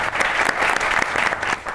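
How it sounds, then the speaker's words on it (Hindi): A studio audience at a comedy talk show breaks into brisk, sustained applause, close and lively, with many hands clapping at an even level for the full stretch. "मेरे लिए ताली बजाइए।"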